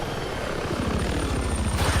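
Rotor blades of a helicopter in the Battlefield 6 video game chop in a steady, rapid rhythm, loud and close with a constant engine whine throughout.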